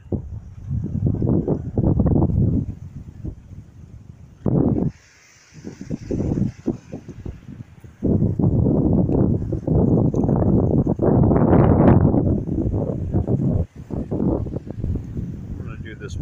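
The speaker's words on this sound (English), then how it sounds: "A lot of wind." Strong outdoor wind at sunset buffets the microphone in loud, rough gusts that drop away briefly around five and eight seconds before surging again.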